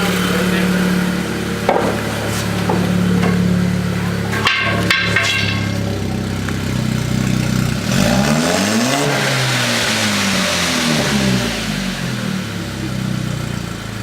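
An Audi engine fitted with test pipes idles loudly and close, then revs up and settles back in a rising and falling roar, with a couple of sharp knocks early on.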